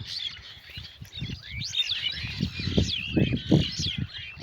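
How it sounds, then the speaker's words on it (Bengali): Many birds chirp and twitter from trees in a rural village, bright overlapping calls with rising and falling sweeps, over low rumbling handling or wind noise. "এই যে পাখি সব বসে আছে গাছের মাথায়"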